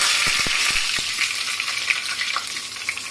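Mustard seeds, cumin and curry leaves sizzle in hot oil for a sweet toor dal, a loud, steady crackling hiss with a few sharp pops near the start.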